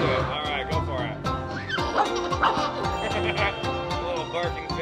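A barking-fish sound effect from the Epic Fortunes slot game gives repeated short yipping barks over busy, layered game music and chimes.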